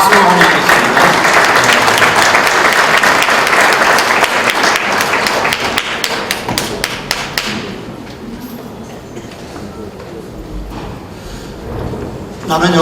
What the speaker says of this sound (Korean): 우리 앤드류 킴 선교사님 박수로 환영하겠습니다